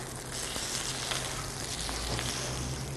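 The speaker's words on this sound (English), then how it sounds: "The eggplant is sauteed in hot olive oil." Eggplant slices sizzle and fry steadily in hot olive oil in a pan, a close, continuous crackling hiss with no talk over it.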